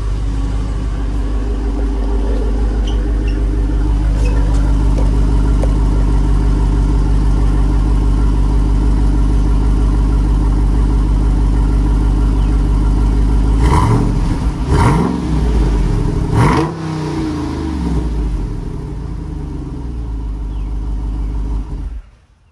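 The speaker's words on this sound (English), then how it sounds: "I'll get you a little zoom clip of the exhaust." Jeep Wrangler 392 V8 exhaust, fitted with an 8-speed transmission, idles with a steady low rumble and then revs sharply several times around the middle before settling back to idle, close and loud with no talk.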